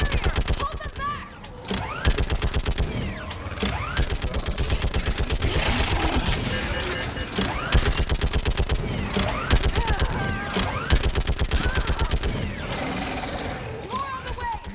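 Rapid turret gunfire in the Mass Effect 3 battle on Thessia, sustained bursts of dense automatic shots with mechanical clatter, loud and close, while voices shout over the action.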